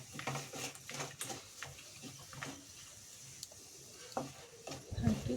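Spices, chilli powder and salt being mixed by hand in a bowl for puliyogare avalakki, soft scraping and light clinks of the bowl, quiet and close, in irregular bursts.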